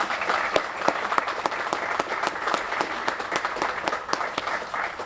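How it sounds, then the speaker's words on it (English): An audience at a fire department ceremony honoring heroes applauds steadily, with sharp individual claps standing out regularly through a continuous, moderately loud wash of clapping. "help me give a round of applause to say thank you to all these people"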